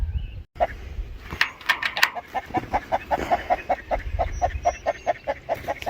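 Hens clucking in a chicken tractor, among them a Minorca gold hen, with a steady run of close, rhythmic clucks and a few louder squawks over a low outdoor background.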